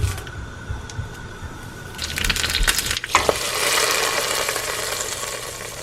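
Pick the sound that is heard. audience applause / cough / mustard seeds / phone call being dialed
mustard seeds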